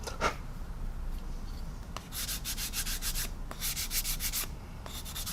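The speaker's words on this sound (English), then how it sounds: "So all you're literally going over, gently going over the raised detail and sanding the paint off." Coarse sanding stick scraping paint off raised detail on a 1/8 scale Mustang model engine, bursts of fast scratchy strokes up close, separated by short quiet gaps.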